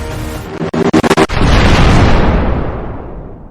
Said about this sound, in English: a giant explosion of snow goes around you, and the tracks and the whole train shake